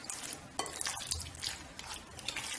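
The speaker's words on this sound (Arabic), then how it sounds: "نحاول نخلط هذا الخليط مزيان كيف ما كتشوفوا معايا اخواتي" A shawarma marinade mixture being stirred and mixed by hand in a bowl, with soft, continuous scraping and wet churning at close range, steady and low in volume with no talking.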